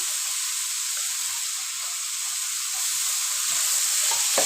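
Finely chopped capsicum fries with browned onions in a pan, giving a steady, even sizzling hiss that grows slightly louder near the end, with a few faint stirring taps.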